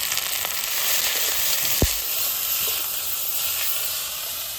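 Ginger, garlic, cumin, dried chilli, onion, salt and turmeric frying together in a pan for a fish dish; a loud, steady sizzling hiss runs throughout, broken by one brief knock.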